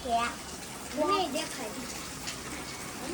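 Rainwater leaks through a house roof during heavy rain in Surat, a steady splashing gush that carries on while a person talks over it.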